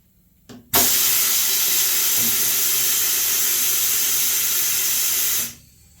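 A sudden loud pneumatic hiss as the XK-988 tire changer's wheel clamps are actuated by compressed air, a short burst then a sustained rush of air lasting several seconds before cutting off abruptly.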